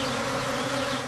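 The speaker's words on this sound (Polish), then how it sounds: "Pszczoły to jedne z najbardziej pracowitych istot na Ziemi." Bees buzzing in a continuous, dense drone that holds steady and close for about a second, with no voices.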